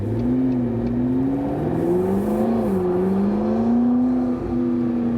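A McLaren 650S Spider convertible's 650 hp V8 idles after starting, a loud, steady low drone with small pitch swells as it is revved lightly, alone without talk.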